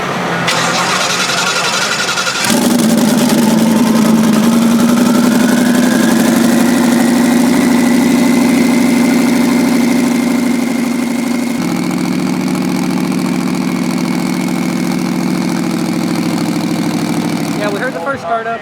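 A race car engine on a 6-second Nissan GTR starts with a loud crank and catch, then settles into a steady, close, throbbing idle that shifts pitch slightly partway through.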